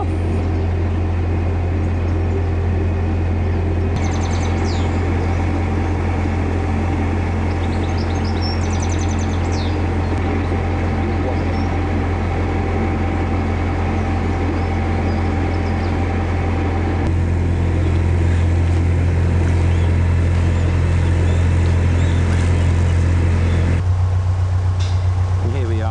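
Canal narrowboat engine running steadily as the boat sets off near Willington, a constant low chugging drone with a steady hum that swells slightly louder toward the end, with no talk over it.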